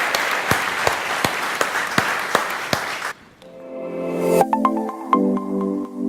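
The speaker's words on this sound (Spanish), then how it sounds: "Le damos un aplauso fuerte al Señor." A church congregation applauds loudly during a worship service, a dense burst of clapping lasting about three seconds before sustained music tones take over.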